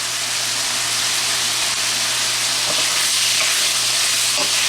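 Shrimp fry in a hot pan with loud, dense, continuous sizzling and spitting close up, a few faint stirring clicks showing through near the end.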